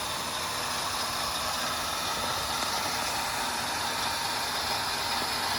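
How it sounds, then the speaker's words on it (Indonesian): Homemade water-well drilling rig built by villagers runs steadily, a continuous loud mechanical clatter and grind with a ratcheting, engine-like drone and no pauses. "Beginilah terus menerus kerja daripada mesin bor yang berbuspal buat ini."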